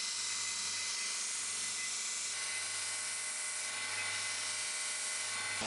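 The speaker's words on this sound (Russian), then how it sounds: "я начинаю обтачивать внешние контуры" Steel folding knife clip, already drilled for bolts, having its outer contours ground: a steady, loud, high-pitched abrasive whine that runs continuously with no pauses and no voices.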